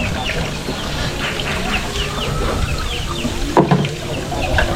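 Chickens clucking and calling all around, with several birds making short repeated clucks over a busy, noisy farmyard background and a brief knocking sound near the end.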